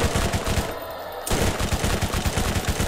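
Rapid automatic SMG fire in Borderlands, a dense rattling burst of shots that breaks off briefly, then resumes as a loud continuous stream.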